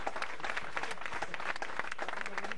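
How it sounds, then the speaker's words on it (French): Applause from a supporters' gathering of a peña band, dense clapping filling the room at steady loudness, with some voices mixed in. "on peut l'applaudir."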